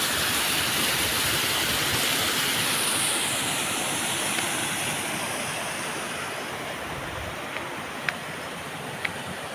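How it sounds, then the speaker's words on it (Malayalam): Water pours through the opened shutters of a dam that runs only in the rainy season, making a steady, loud, broadband roar that fills the whole clip with no voices. "ഡാമിൻ്റെ വെള്ളം തുറന്നു വിട്ടിട്ടുള്ളത്."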